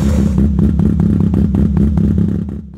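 A bridgeport-ported rotary engine idles with a loud, choppy brap, its rapid regular pulses running evenly for about two and a half seconds before fading.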